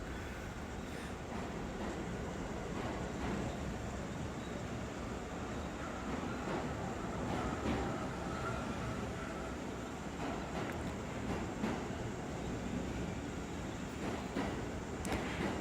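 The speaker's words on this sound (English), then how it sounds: "got to see a nice close-up view of one of the work trains" An MTA work train in the New York City subway rumbles past a station platform, a steady, broad rolling roar with faint metallic rattles that holds evenly throughout.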